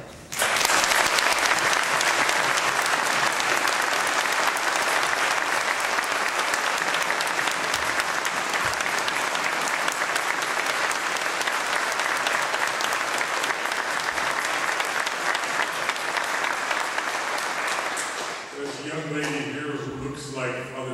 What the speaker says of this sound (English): if we're going to clap, let's clap hard